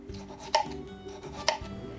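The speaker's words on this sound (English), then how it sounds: "I'm slicing them thinly" Peeled potatoes being sliced thinly with a knife for a Spanish tortilla, two distinct crisp chops about a second apart over a quiet kitchen background.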